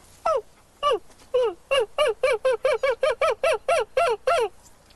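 A human voice imitating a screech owl, giving a rapid run of about fifteen short, whinnying, squeaky hoots that quicken and bunch together, loud and close with no other sound.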